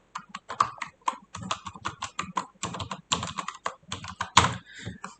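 Keys clatter on a computer keyboard as a password is typed, a quick irregular run of close, crisp taps with short pauses, no talking over it.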